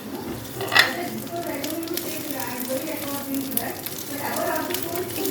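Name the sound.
cubed onions frying in oil with garlic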